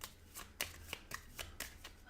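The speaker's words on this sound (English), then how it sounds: "Shuffle the other reveal cards back into the villain deck." A deck of cards for the board game Sentinels of the Multiverse is shuffled in short riffling bursts, several quick crisp rustles and snaps repeating close to the microphone in quiet surroundings.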